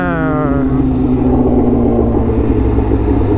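Tuned, loud Suzuki GSX-R1000 1000 cc motorcycle engine riding through the city, a close steady rumbling drone with a rising whine at the start, no talking.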